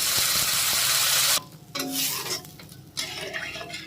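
Water poured into fried masala in a pan to make gravy for an egg and cabbage curry: a loud rushing hiss that suddenly cuts off, followed by quieter bubbling and stirring clinks, close up.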